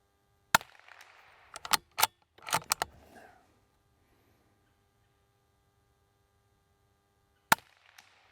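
A Bergara BMR-X .22LR rifle fires a rapid string of sharp shots, about seven cracks in roughly three seconds with uneven spacing. A single final shot follows after a long quiet pause, each crack sharp and close.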